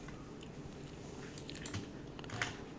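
Fingers tap on a computer keyboard in a quiet room, making soft, irregular clicks with a few brief bursts of quicker keystrokes, faint and close, with no voices.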